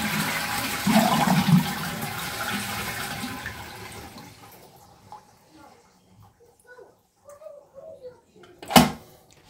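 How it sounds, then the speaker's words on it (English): An Ideal Standard toilet, its water supply turned off, flushes with a loud rushing surge that fades over a few seconds into quiet dripping, ending in a sharp knock. "So I've turned the water off and now I'm going to flush."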